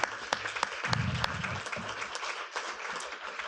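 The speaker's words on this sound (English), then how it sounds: "he deserves a round of applause." Audience applause at a city council meeting, moderately loud and steady clapping that fills the room for a few seconds, with a few sharper individual claps standing out.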